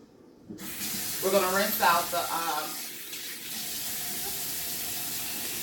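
Cool water runs steadily from a tap while a child's hair is rinsed of rice water, a close, continuous hiss that starts abruptly, with a voice briefly audible early on.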